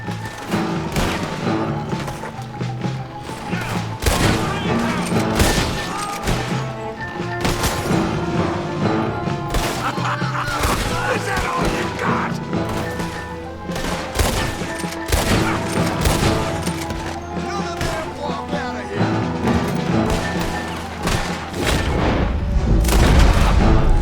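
Sustained heavy gunfire in the Western video game Red Dead Redemption 2, with dense overlapping shots and booms in a loud, continuous battle that never lets up.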